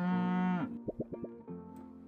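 A cartoonish cow in Super Auto Pets gives a single loud, drawn-out moo, followed by a quick run of soft popping game blips.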